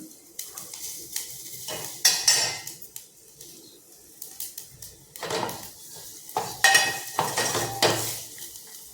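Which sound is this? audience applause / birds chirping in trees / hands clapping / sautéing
sautéing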